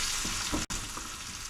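Sausages heat through in a hot frying pan over a lowered flame, giving a close, constant crackling sizzle with a brief split-second gap and faint stirring thuds, no voices.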